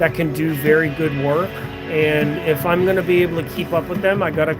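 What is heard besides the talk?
No everyday noise stands out behind the speech.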